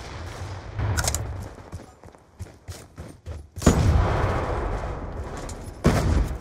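Shotgun blasts in an online multiplayer shooter game, a few loud booming shots with bursts of other gunfire in a busy match, with brief quieter gaps between.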